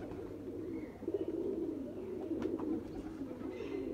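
Sialkoti pigeons coo softly and steadily against a low background hum, a pair of birds calling in repeated gentle murmurs with no speech over them.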